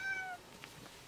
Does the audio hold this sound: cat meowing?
yes